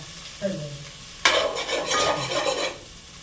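Ginger garlic paste frying in a pan for a bachelor party meal, a brief quiet stir, then a sudden loud sizzle with spatula scraping that holds steady before fading.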